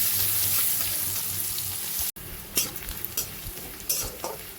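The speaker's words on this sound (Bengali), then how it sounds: "পেঁয়াজটাকে একটু সোনালি করে ভেজে নেবো" Thinly sliced medium onion fries in a pan toward golden brown, a loud dense sizzle that drops away abruptly, followed by quieter stirring scrapes and utensil knocks.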